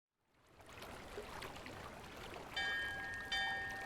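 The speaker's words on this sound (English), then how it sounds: "That's some very pleasant water sounds." Gentle flowing water in a video game, a soft continuous stream that rises from silence, joined near the end by two brief bright chiming tones.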